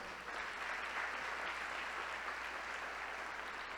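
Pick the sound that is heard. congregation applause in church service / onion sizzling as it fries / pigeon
congregation applause in church service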